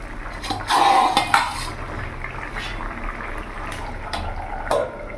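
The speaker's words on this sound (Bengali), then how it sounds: "আমি আবার নাড়াচাড়া করে আবার ঢাকা দিয়ে রেখে দেবো" A soybean, potato and papaya curry is stirred in a cooking pot, with a spoon scraping and clanking against the metal over a soft simmering bubble, close and fairly loud in a few short bursts, with no talking.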